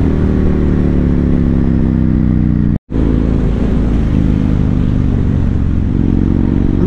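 A 2005 Yamaha MT-01 motorcycle rides along with a loud, steady, rumbling engine drone close by, cut by a brief drop-out near the middle before the engine noise continues.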